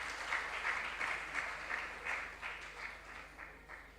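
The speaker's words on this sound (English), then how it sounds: "A round of applause for them." Audience at a junior science and maths quiz in the Ashanti Region claps in a steady burst of applause, fading slightly toward the end.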